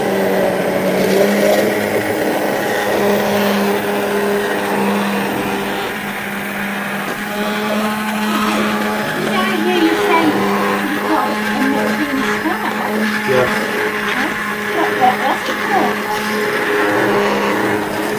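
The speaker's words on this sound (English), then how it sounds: "it looks like you're blending I'm it" An electric blender whisks food in a home kitchen with a loud, steady whirring drone that runs the whole time while people talk over it.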